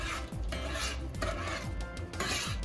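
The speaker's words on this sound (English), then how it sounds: "you're gonna continue stirring this for about 2 minutes to allow it to get a little thick" A spoon stirs a thick cheddar cheese sauce in a pot, producing continuous close scraping and swishing with rhythmic strokes against the pot's metal bottom and sides.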